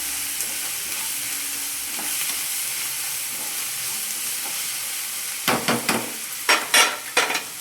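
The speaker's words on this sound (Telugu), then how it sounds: "ఇప్పుడు కరివేపాకు వేసుకోవాలి" Curry leaves dropped into hot oil in a pan while cooking goat liver fry, with a steady close sizzle and a burst of louder crackling and spattering near the end, no voices.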